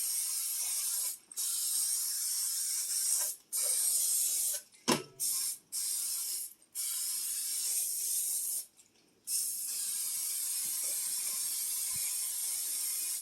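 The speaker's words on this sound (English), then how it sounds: "heavily spray it with butter spray" Repeated hissing bursts from a can of butter spray coating a Bundt baking pan, several long sprays separated by short pauses, close and fairly loud, with no talking.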